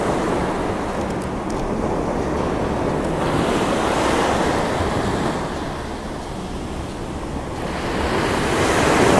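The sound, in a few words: ocean waves breaking on the shore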